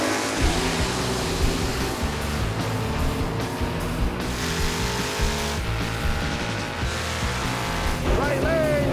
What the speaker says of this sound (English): Let's see the burnout, boys. It's Chevy, it's Ford, here we go.